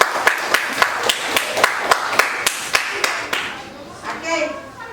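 A classroom of students claps in a quick, even rhythm, about a dozen sharp claps close by, and then children's voices and chatter take over as the clapping fades.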